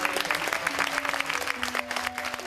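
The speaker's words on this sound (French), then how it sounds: "je vais vous inviter, encore une fois, à applaudir ces femmes" An audience applauds at a feminist event in Quebec, dense sustained clapping from a sizeable crowd, fairly loud and even throughout, with a faint steady tone running underneath.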